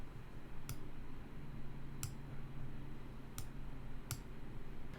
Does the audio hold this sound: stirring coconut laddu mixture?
no